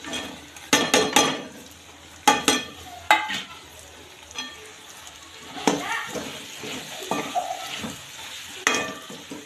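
Paneer pieces go into masala frying in oil, giving a few sharp clattering bursts of stirring and scraping over a soft, steady sizzle, close and moderately loud, with brief murmured talk.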